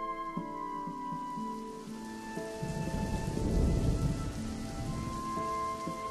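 Heavy rain pouring during a violent thunderstorm, a dense steady patter with a deep rumble of thunder swelling in the middle, mixed under soft sustained music notes.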